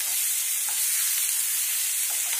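Tomato and onion frying in a pan for a chicken curry, a steady loud sizzle running unbroken, with faint stirring scrapes beneath and no talk.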